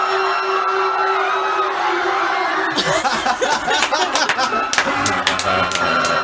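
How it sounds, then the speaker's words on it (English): A crowd-panic sound effect with gunfire and sirens: a steady murmur with a sustained wailing tone gives way, partway through, to a loud, dense wash of screaming voices punctuated by sharp repeated cracks, continuing to the end. "This one's got shooting and sirens"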